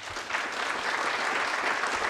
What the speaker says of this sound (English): why don't we give our panelists a hand clap?